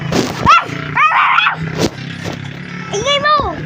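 A dog barks and yelps in short sharp bursts close by, with someone talking around and between the barks.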